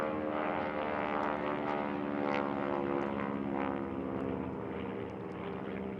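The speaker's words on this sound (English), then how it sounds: "I would guess that's the warbirds." Vintage warbird aircraft fly over an outdoor veterans memorial rededication, their propeller engines making a loud, sustained drone that stays steady overhead for the whole stretch.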